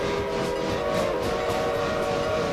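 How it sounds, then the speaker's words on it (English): Norfolk & Western 611 Class J steam locomotive, a sustained loud rumble of running gear with a steady whistle-like tone held throughout, close and continuous, with no voices. "She's the finest steam train ever built, 611 class J."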